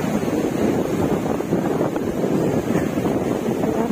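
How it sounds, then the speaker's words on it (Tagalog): Large ocean waves break along a beach at Barangay Bilaran, Nasugbu, Batangas, a loud continuous surf roar heavily mixed with blustery wind buffeting the microphone, with no talk. "Laki ng alon eh."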